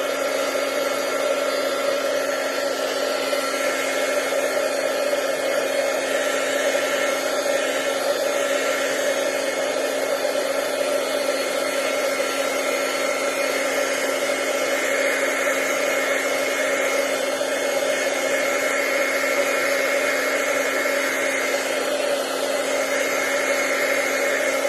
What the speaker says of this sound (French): je vais le faire sécher un petit peu avec mon petit pistolet.